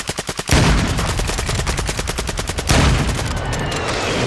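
Rapid gunfire in Warzone 2 cracks out in fast, loud bursts, a clipped rattle at the start giving way to a dense sustained volley, then a second heavier burst near the end.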